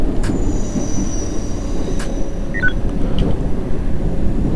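Subway train running in the World of Subways game: a steady, loud rumbling drive with faint wheel squeal and occasional clicks, continuous throughout with no talking.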